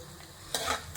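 Onions, green chillies and peanuts fry in a pan with a quiet sizzle, then a brief, louder stir or scrape about halfway through, close and faint.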